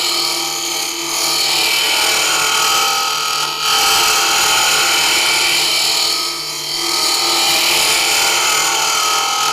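A wood lathe hollows out the inside of a wooden whiskey tumbler with light cuts, giving a loud, continuous scraping whir from the spinning workpiece and tool that runs steadily throughout, with no talking.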